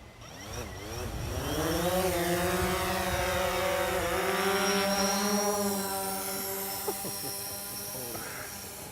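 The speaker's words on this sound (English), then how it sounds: "The drone is moving along this path here." A DJI Phantom quadcopter's rotors hum with a rising and shifting whine, fairly loud and steady for several seconds before easing slightly.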